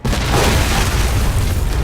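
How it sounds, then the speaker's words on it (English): A C4 charge detonates in the video game Alpha Protocol, a loud, sustained booming blast that fills the whole moment with rumbling roar and no speech. "I'm reading a C4 explosion in your area."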